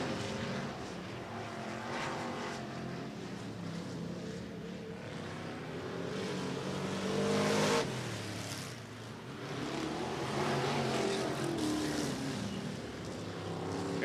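Sprint cars lapping Sunset Speedway Park during a Western Sprint Tour race: a continuous engine roar from several cars, swelling sharply as the pack passes close and then easing back toward a distant drone.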